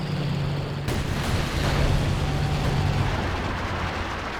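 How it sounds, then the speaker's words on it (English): A flame mortar strike in Company of Heroes 2 lands as a loud, rumbling roar of fire and blasts that runs steadily throughout, with a sharp crack near the start. "Flame mortar support coming in."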